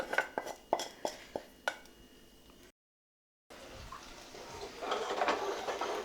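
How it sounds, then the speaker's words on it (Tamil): A spoon stirs egg and drumstick masala in a pan, several sharp metallic taps and scrapes near the start, then a brief silence and a softer, rising frying and scraping sound. "இது இப்போ எல்லாமே ஒன்றா நல்லா மிக்ஸ் ஆகிற அளவுக்கு கிளறி விட்டுருங்க"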